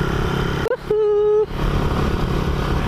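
Motorcycle engine revving in a short burst, a rising whine that holds steady for about half a second before dropping back under ongoing low engine rumble and background chatter.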